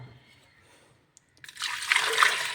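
Water pours into a cooking pot for boiling potatoes in a home kitchen, a steady splashing rush that starts abruptly partway through after near silence and continues loud and close to the end.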